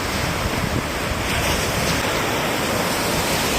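Ocean waves break and wash continuously on a beach in Goa, a loud steady roar of surf with wind buffeting the microphone throughout.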